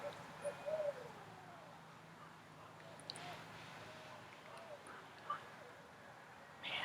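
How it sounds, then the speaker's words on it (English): An owl close by hoots a few times at night, soft low calls scattered over a quiet, hissing background with occasional faint bird sounds. "It's an owl."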